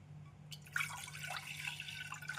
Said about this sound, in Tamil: நாம் ஒன்றரை டம்ளர் தண்ணீரை கொதிக்க வைத்து ஊற்றிவிடலாம்